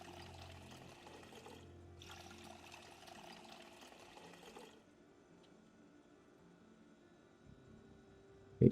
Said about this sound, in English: Let's fill all the empty bottles I have.